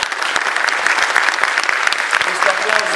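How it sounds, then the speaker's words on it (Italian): A dense crowd of company staff applauds for a visiting prime minister, a steady wash of many hands clapping at once, loud and close, filling the whole stretch without pause. "questo applauso nasce da questa azienda, caro primo ministro, era tutto preparato a tavolino"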